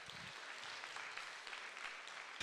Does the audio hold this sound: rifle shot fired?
no